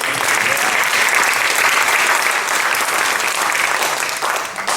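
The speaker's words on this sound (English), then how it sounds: "that deserves a big round of applause" At a yoga panel discussion, a large audience delivers a loud, continuous round of applause lasting nearly five seconds, an even wash of clapping with faint crowd murmur.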